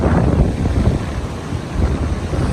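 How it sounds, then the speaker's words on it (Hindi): Floodwater of the Sutlej river rushes loudly through the Sulemanki headworks gates, a constant low roar mixed with wind buffeting on the microphone. "बहुत ज़्यादा पानी का शोर भी बड़ा ज़्यादा है, बहुत ज़्यादा प्रेशर है।"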